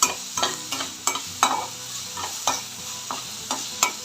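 Tomatoes sautéed in a pan for a prawn mint gravy, with a spatula scraping in regular strokes, about ten rhythmic clacks over a soft, constant sizzle.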